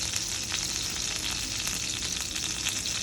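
A ribeye steak sizzles in a pot with a steady, dense crackle, loud and close, with no talking over it.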